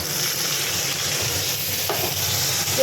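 Onion frying with a ginger, garlic and tomato masala for a bottle gourd and prawn curry, giving a steady close sizzle with faint stirring throughout and no speech.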